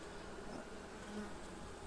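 Honey bees swarm over an open hive frame with brood, making a steady, dense, low drone that stays close and even throughout.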